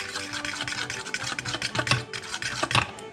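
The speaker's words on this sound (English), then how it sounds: "Mix it up here real good." Pepper being stirred into a mixture with salt for breading pork: close, soft rubbing and scraping strokes that repeat at an uneven rhythm, fairly quiet, with no talking.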